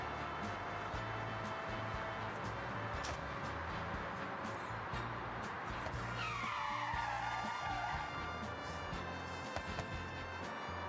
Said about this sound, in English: Car's silent and all of a sudden you just hear tyres screeching.